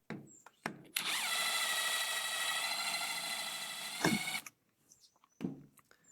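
A powered driver with a T15 Torx bit backs out the screws of a rubber rifle butt pad, whirring steadily for about three seconds, with clicks and handling noises before and after.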